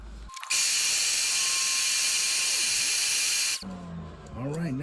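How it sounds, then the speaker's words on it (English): Power drill boring two holes through an antique A.C. Penn New York pocket knife, a steady loud high whine running about three seconds, starting and stopping abruptly, with quieter handling noise after. "Let's drill these 2 holes real quick."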